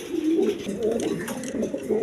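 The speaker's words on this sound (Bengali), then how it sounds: "হাউস পিজন কবুতর, অ্যান্ডোলেজেন কালার মাদি কবুতর" House pigeons, including a large breeding pair, coo steadily in a farm loft, with low throaty calls overlapping continuously and close by throughout.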